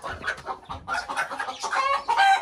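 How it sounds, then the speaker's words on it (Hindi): Several hens clucking and squawking in a crowded cage on a poultry farm, close and agitated, with overlapping calls and brief squeals. "बड़ी मुर्गी जितनी भी है ना, हमने सारी की सारी पकड़ दी है, और उसको जो है ना एक ही केज में बंद कर दिया"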